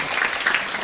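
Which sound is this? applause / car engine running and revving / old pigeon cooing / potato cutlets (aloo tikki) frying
applause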